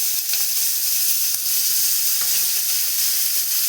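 Garlic and chili hitting hot oil with fried dried fish (shutki) sizzle and crackle steadily, a close, continuous frying hiss with a few sharper pops.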